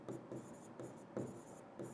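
Chalk or marker scratches on a board in short, repeated strokes with brief gaps between, faint and close, during a teaching session.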